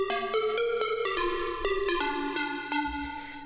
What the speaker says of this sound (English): we went ahead and added some reverb noise around both of those layers